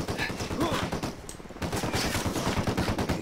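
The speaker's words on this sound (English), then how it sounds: "I'm getting shot at." Rapid automatic gunfire in Ghost Recon Wildlands, dense bursts of shots crackling almost without pause, broken by one short gap midway.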